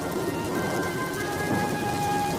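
Steady rain starting to fall in a rural farm setting, a continuous broadband hiss with a faint distant rumble, fairly loud and unbroken with no talking.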